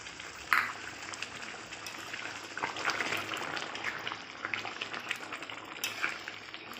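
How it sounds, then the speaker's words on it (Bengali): Hot water poured into chicken curry frying in a pan in a South Indian style kitchen, setting off a quiet, steady sizzle and bubbling with soft crackles throughout. "এই গরম জল আমি দেবো"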